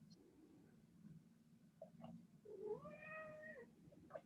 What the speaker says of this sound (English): I'm not sure what my cat wants.